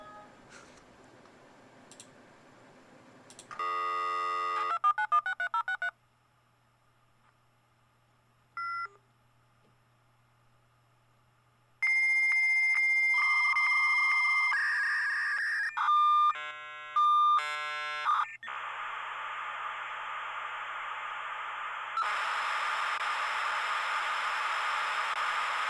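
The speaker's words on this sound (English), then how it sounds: "dial into that internet connection like you're trying to win a radio contest" A 56K dial-up modem picks up with a dial tone, rattles off rapid touch-tone digits, then runs through its connecting handshake: shifting beeps, warbling tones and loud hissing static that holds steady to the end.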